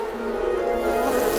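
A swarm of bees defending their nest from a bear raid fills the air with a dense, steady buzzing drone, loud and close, with no voices over it.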